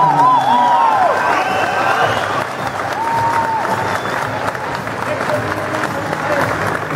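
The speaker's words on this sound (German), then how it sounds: "Herzlich willkommen, ihr Beifall für Arthur Abraham." A crowd applauds and cheers for boxer Arthur Abraham at a weigh-in in Berlin, loud sustained clapping with whoops and whistles, fading slightly while an announcer speaks over it.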